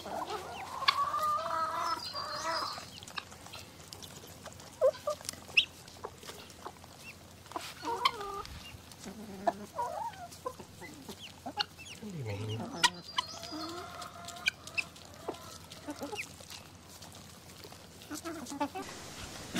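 Chickens on a self-sufficient tropical property in Far North Queensland cluck and squawk in scattered bursts near the coop and runs, over a quiet outdoor background.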